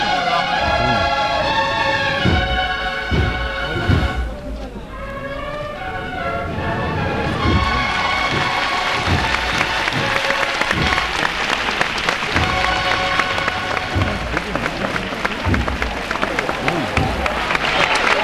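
Dense crowd noise from a Semana Santa procession in a Seville street as police push spectators back for the paso, with steady clapping-like applause and babble throughout, loud and close, with voices mixed in.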